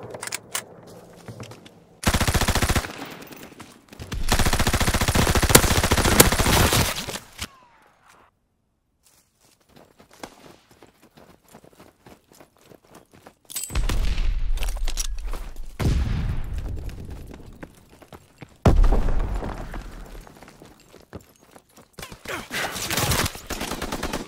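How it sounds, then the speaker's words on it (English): Gunfire and explosive bursts from incoming enemy mortar fire in the World War II shooter Call of Duty: WWII, coming in loud, dense barrages separated by quieter gaps of scattered impacts. "Enemy mortar fire incoming."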